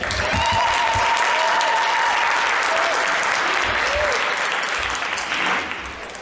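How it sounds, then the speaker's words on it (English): Sustained applause from a crowd for President Ramaphosa at a bill signing, a broad steady roar of clapping with voices talking over it, tapering off near the end. "Let's give the President a better round of applause"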